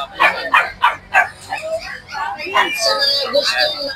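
Toy and mini poodles at a pet market give a string of sharp yips and small barks up close. Whimpering follows, with people talking over and around the dogs.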